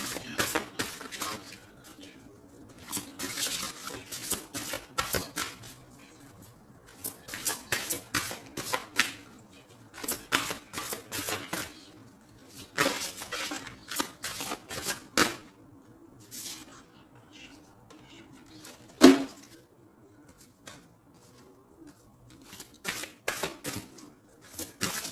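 A deck of oracle cards from a Rumi oracle set is shuffled for a card reading in repeated bursts of quick, crisp riffling and tapping, close by, with short pauses between rounds across the whole stretch.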